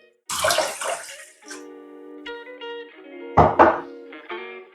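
Two splashy pours of water hit a metal pot for cooking rice, each followed by ringing, resonant tones as the vessel settles; close and fairly loud.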